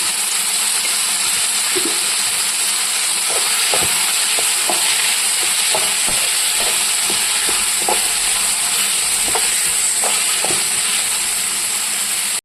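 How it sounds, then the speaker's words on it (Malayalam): Ingredients for an okra curry sautéing in a pan, with a continuous loud sizzle and hiss broken by regular scraping stirs close by. "ഒന്ന് വഴറ്റി വന്നിട്ടുണ്ട്."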